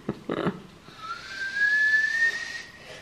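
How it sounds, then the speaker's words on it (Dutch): A teapot whistling on a stove, a steady shrill tone that rises in pitch and swells louder before fading, with a few short knocks at the start; no voices. "laat dan de theepot fluiten"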